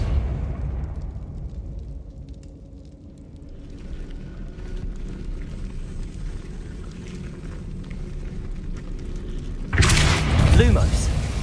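A Depulso spell cast in Hogwarts Legacy bursts out as a sudden loud, broadband whoosh-blast near the end, following a long stretch of rumbling game ambience.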